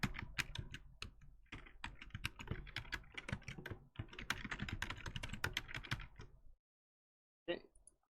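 Fingers tap rapidly on a computer keyboard to enter a password, a close, busy clatter of keystrokes that stops abruptly, with one last brief click after a pause.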